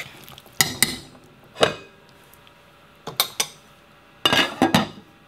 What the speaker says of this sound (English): You can just give it a quick stir.